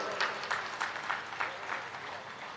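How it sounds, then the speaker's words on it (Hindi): An audience at a cow-devotion religious discourse in Ranchi, Jharkhand claps together in a steady, rhythmic beat, with moderately loud pulses at regular intervals over a continuous hiss of hands. "तालियां बजाओ इसके लिए।"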